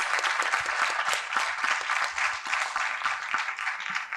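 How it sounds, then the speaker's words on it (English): An audience at a regional quiz competition applauds the teams on stage, dense, even clapping held at a moderate distance without a break throughout. "let us applaud each and every team on stage"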